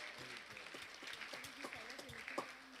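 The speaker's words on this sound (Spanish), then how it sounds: "Muy bien, un aplauso." A church congregation applauds during a service, steady clapping spread through the room while voices talk over it.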